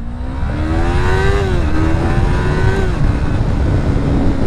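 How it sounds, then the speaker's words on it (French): Yamaha MT-03 320cc twin-cylinder motorcycle engine revved hard, a loud sustained howl whose pitch climbs, dips briefly, then holds steady near the microphone. "Ça fait vraiment genre le moteur que tu tires à fond quoi."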